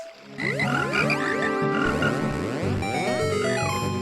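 Frogs in a Zelda video game chiming along to ocarina songs, a dense, bright cluster of overlapping musical tones and croaky pitched notes that swell in after a brief quieter start and carry on steadily.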